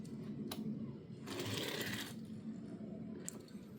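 A Hot Wheels '69 Ford Mustang Boss 302 die-cast toy car rolls across a surface, giving a faint, close whirring rattle from its slightly wobbly wheels for a few seconds.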